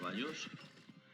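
Horses in the strategy game 0 A.D. give a brief, bright whinny over the sound of clopping hooves, heard close and clear in a short burst, with game sounds in the background.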